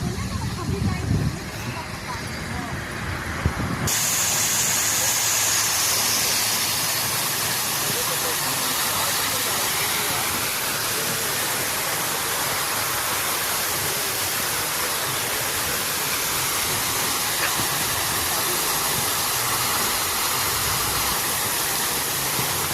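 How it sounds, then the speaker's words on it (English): Luguburu waterfall in Jharkhand pours in a steady, loud broadband rush of water that fills the whole clip, with a brief lower, rumbling stretch at the start before the full roar takes over. "So I thought I should show you the beautiful waterfall."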